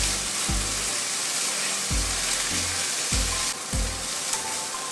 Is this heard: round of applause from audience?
no